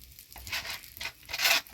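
Two bay leaves drop into hot oil and hiss in short sizzling bursts as they are stirred, three brief close pulses of frying crackle over a quiet kitchen background.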